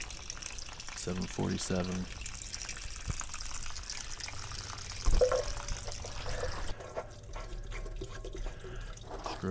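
Water drains from an old 40-gallon Richmond electric water heater tank, a steady trickling and dripping beneath a voice, with a hollow splash partway through.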